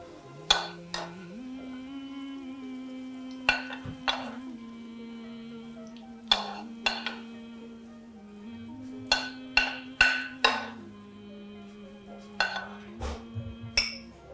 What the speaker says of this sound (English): I'm going to distribute the peaches equally amongst these 4 ramekins